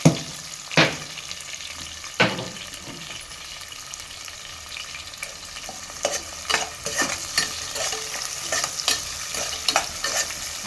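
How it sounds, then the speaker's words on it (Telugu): Onions frying in a pot until golden for a double-masala chicken biryani, a steady soft sizzle with a few sharp stirring scrapes early on and a busier run of clinks and stirs toward the end. "గోల్డ్ కలర్ వచ్చే వరకు వేయించాలండి."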